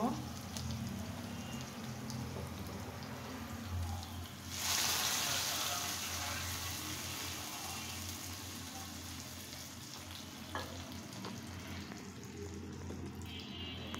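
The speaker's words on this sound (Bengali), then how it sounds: "আমার বাগারটা হয়ে গেছে, এখন আমি ঢেলে দেব।" Hot tempering poured into a dish, heard as a sudden loud hiss and sizzle that flares up midway and slowly settles into a quieter crackle, close by.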